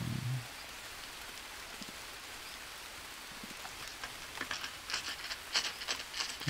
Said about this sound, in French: Surtout qu'on a de la pluie.